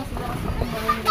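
Broiler chickens cluck in short, close bursts on a farm, with soft background noise around them.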